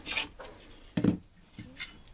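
Sanding a wooden block by hand so it fits inside a mitre block, heard as a few short, close rasping strokes of abrasive on wood, separated by brief pauses.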